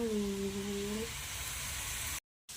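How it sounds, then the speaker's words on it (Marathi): Chopped onions sautéing in a pan for a potato-chip vegetable dish, a steady close sizzle with a brief tonal hum at first and a short cut to silence near the end. "बघा कांदा परतून घेतलेला आहे"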